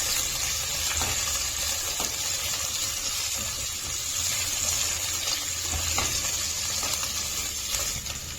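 Coarsely chopped onions frying in a pan, a continuous even hiss and crackle throughout with faint scattered ticks, no speech.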